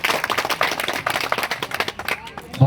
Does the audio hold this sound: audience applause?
yes